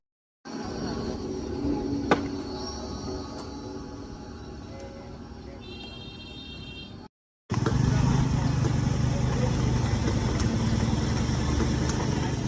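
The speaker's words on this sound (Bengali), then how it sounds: "আর এদিকে নৌকা পারাপার চলছে" Motor engine of a ferry boat making a river crossing at the Kalinagar ferry ghat in Nadia, a steady droning hum running continuously, briefly cut off and then resuming louder and closer.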